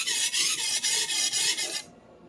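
Steel knife being sharpened on a 1,000 grit intermediate sharpening stone: close rhythmic rasping strokes, about six in quick succession, stopping abruptly near the end.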